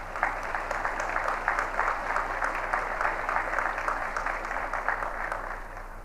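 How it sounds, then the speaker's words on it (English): Steady, dense applause from an audience at an Officer Candidate School graduation ceremony, honoring the Naval War College band, sustained clapping at even strength for the full stretch with no talking over it. "Can we give them a round of applause"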